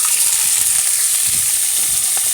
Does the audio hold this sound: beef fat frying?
yes